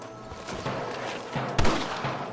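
Scattered gunfire rattles through a Red Dead Redemption shootout against snipers, with several sharp cracks over a steady, noisy battle backdrop and one louder report near the end.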